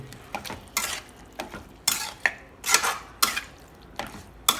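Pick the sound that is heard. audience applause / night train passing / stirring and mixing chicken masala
stirring and mixing chicken masala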